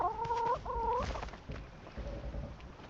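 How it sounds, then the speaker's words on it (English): Chickens cluck in the survival video game Rust, two loud close cackles in quick succession and then a fainter, shorter cluck over low game noise. "just petting my chickens real quick here"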